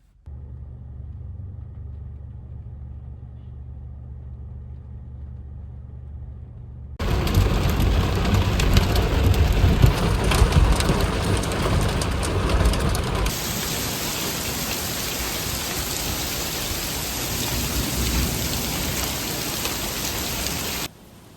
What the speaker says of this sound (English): there's a lightning and thunderstorm, and it's pouring rain